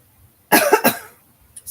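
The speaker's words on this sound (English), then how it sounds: "Oh, I hope I'm not going to start coughing." Two or three harsh, close coughs in quick succession, followed by a short pause and a couple of faint breathy sounds.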